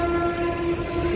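A train at Visakhapatnam station sounds a loud, sustained horn tone over a low rumble of the rail cars, close by and steady throughout.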